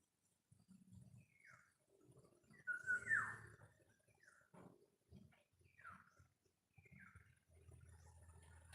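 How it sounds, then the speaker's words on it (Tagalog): Faint birds chirping in short, scattered calls across several seconds, distant and quiet over a low outdoor rumble in the woods. "Naririnig niyo ba yung mga huni ng mga alaga namin sa kakahuyan? Mga huni ng ibon"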